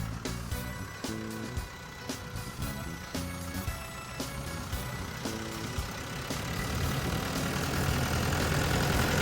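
The turbo diesel engine of a Sakai SV512DF-E vibratory roller idles steadily with a low rumbling throb and a faint rhythmic knock, close by and continuous throughout.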